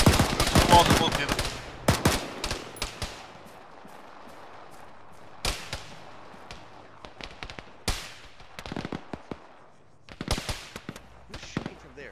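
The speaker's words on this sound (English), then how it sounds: "Who's shooting from there?" Gunfire in the military video game Arma, with bursts of automatic fire and scattered single shots at varied distances, some loud and close, others fainter, spread across a tactical firefight, with brief radio-style talk in between.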